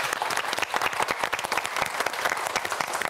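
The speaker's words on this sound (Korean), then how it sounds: "여러분 3라운드를 앞두고 있는 네 학생 모두에게 큰 박수 부탁드립니다" A studio audience on a Korean science quiz show applauds the four student contestants, steady dense clapping throughout, loud and close with no talk over it.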